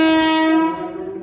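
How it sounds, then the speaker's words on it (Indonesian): A KRL commuter train at a station platform sounds a loud, sustained horn that fades away after about half a second, with rail noise underneath. "ini KRL-nya walaupun yang di jalur 2 walaupun berhenti di sini tapi nggak naik turun penumpang ya"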